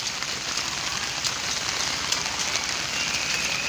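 Heavy rain pours onto a rooftop garden among potted plants, a continuous close hiss of drops with a few sharper spatters mixed in and no talking.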